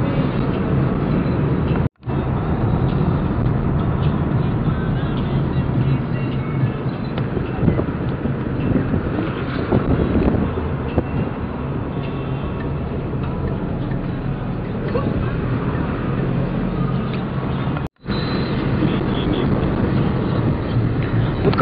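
Steady, loud broadband rumble of a car interior while driving along a road near Irkutsk and Angarsk, continuous road and engine noise filling the whole stretch, with two brief dropouts and a faint voice now and then under it.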